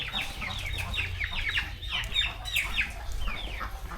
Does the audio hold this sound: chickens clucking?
yes